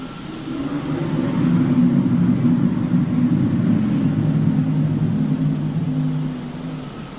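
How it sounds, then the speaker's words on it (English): Strange noises from the sky resembling irregular high-speed traffic, a steady low droning rumble with a faint tonal hum that swells in, holds for several seconds, then eases off. "The noises sound like irregular high-speed traffic for a moment."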